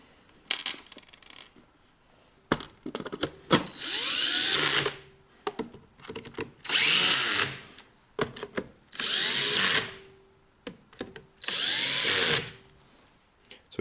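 A power drill drives screws into the battery cover of a DIY powerwall built from LTO cells. It whirs in four or five short, loud bursts, separated by quieter clicks and handling noises.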